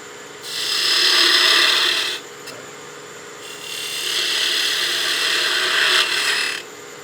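A skew chisel shaves an ogee curve into spinning wood on a lathe, two long steady rasping cuts separated by a brief pause, close and fairly loud with no talk.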